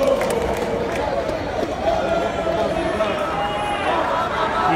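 Crowd noise fills a town square in Alessandria where fans celebrate promotion to Serie B, a dense, steady babble of many voices with scattered shouts and footsteps close by.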